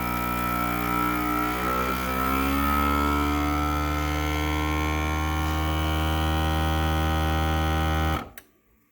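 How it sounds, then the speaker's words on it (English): A vacuum pack sealer seals packages of venison sausages, its pump motor giving a steady, close humming drone that runs for about eight seconds and then cuts off abruptly. "And then the vacuum pack sealer helps keep it fresh in the freezer."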